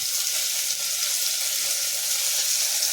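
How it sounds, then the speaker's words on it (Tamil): Onions and tomatoes sautéing in oil for chicken curry, with a steady, even sizzle and hiss that holds constant throughout, close and unbroken. "எல்லாத்தையும் நல்லா வதக்கிக்கலாம்"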